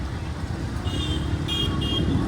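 Busy road traffic rumbles steadily nearby while a car horn gives a few short, high toots in the middle, with a faint voice somewhere in the mix.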